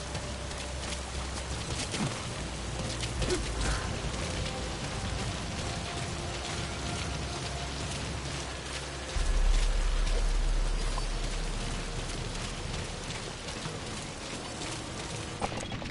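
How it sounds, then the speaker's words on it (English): Rain falling in the video game Metal Gear Solid 5 The Phantom Pain, a dense, steady hiss of rainfall with scattered drops and a low rumble, continuous throughout with no talking. "The sound of rainfall should help to mask your footsteps."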